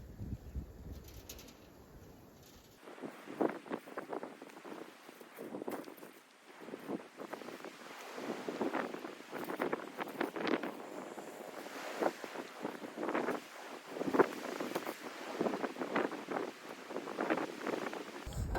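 A cool breeze sweeps across an open farm field, buffeting the microphone in uneven gusts, with faint birdsong in the background and no voices.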